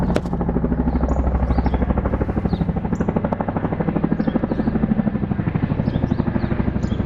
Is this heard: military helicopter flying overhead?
yes